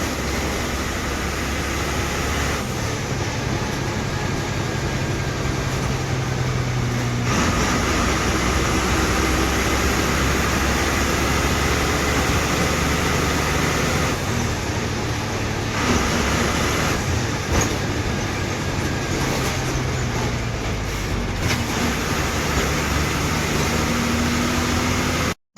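An MSRTC Lal Pari bus climbing through Tamini Ghat on the Dapoli to Pune route, its engine humming steadily for a long stretch, with the pitch shifting now and then amid road and cabin rumble.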